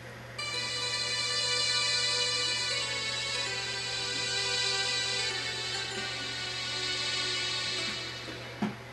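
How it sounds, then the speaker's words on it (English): Several synthesizer tones from an Arduino laser harp sound together as a bright, buzzy chord, held steadily and then fading, with a clicking clunk at the end over a low hum. "You can also play multiple tones"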